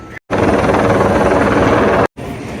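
A tour helicopter near Le Mans sounds up close as a loud, throbbing rotor drone with a steady pulsing beat, cut by two brief gaps of silence.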